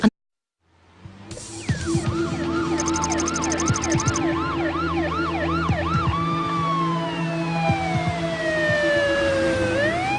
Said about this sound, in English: an ambulance rushes to a call in the Sydney suburb of Mossman